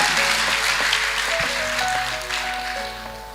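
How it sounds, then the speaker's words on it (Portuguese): Congregation applauding during a church service, a dense wash of clapping that thins gradually, with sustained tones of organ or keyboard underneath and no speech. "Aplauda o Senhor"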